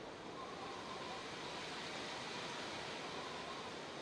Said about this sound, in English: see, it's getting windy again.